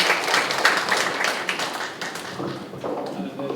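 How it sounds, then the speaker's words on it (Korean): An audience at a Korean church senior revival gathering applauds with steady, moderately loud clapping that gradually thins out. "박수 부탁드립니다."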